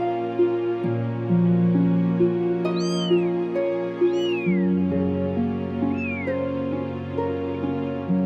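A rescued stray cat meows several times, high rising-and-falling calls standing out clearly over a steady bed of background music.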